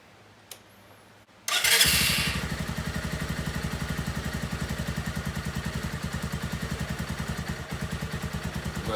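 A Lifan KP Mini motorcycle engine cranks after a short quiet lead-in, catches abruptly and settles into a steady, close, rhythmic idle that runs loud and even to the end.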